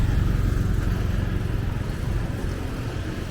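Steady road traffic rolls through a main street in Phuket Old Town, with a continuous low rumble of car and motorbike engines passing nearby and no talk.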